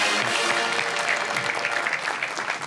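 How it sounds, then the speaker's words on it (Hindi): A studio audience at a TV show applauds, a thick, even wash of many hands clapping at close range that stays steady throughout. "तालियां बजाइए अहमद भाई के लिए।"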